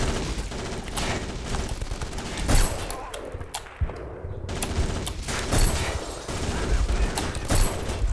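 Gunfire from the video game Black on the Graznei Bridge level, with bursts of rapid shots and single cracks repeating through the clip and a brief lull near the middle.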